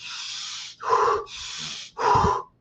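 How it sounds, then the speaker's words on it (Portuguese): Forceful breathing through the nose, heard as two sharp hissing inhales each followed by a heavier puffing exhale, loud and close with no talk. "faz antes de dormir uma respiração bem rápida"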